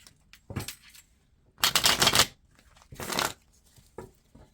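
Cards riffled in a few quick bursts, crisp papery flutters separated by short pauses, close and fairly loud, no talking.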